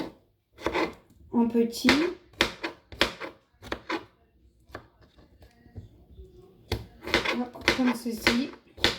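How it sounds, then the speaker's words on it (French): A knife chops tabbouleh ingredients on a cutting board in sharp bursts of quick, close taps with short pauses between, while someone speaks French over and between the cuts. "Là, je reviens encore couper au milieu. Ensuite, je le recoupe"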